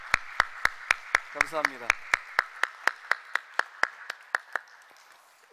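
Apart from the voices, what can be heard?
church congregation applauding youth praise team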